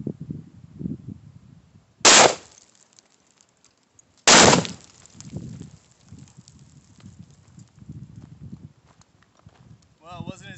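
Two sharp, loud blasts from a half-pound Tannerite kill shot target struck by a rifle round, the second about two seconds after the first, each with a short trailing decay, heard from a distance between stretches of quieter talk and outdoor background.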